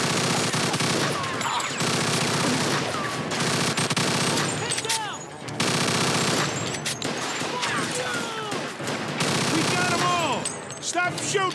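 Gunfire in Mafia 2 Definitive Edition, a mission shootout: dense, loud bursts of automatic weapons fire rattle almost nonstop, with brief gaps, while voices shout over the shooting.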